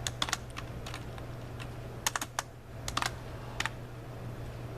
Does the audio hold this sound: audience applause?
no